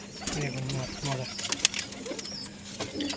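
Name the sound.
pigeons cooing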